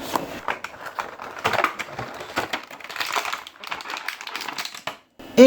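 A GI Joe Classified Hydro Viper action figure is worked free of its plastic packaging up close, with dense crinkling, rustling and sharp crackling snaps, ending in a short burst of louder sound.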